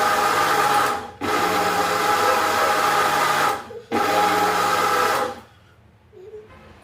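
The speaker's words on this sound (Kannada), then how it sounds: "ಇವಾಗ ಮಿಕ್ಸಿ ಮಾಡ್ಕೊಳ್ಳೋಣ." A kitchen mixer grinder grinds soaked rice and coconut, running in loud, steady whirring bursts, stopping briefly between pulses, then falling quiet at the end.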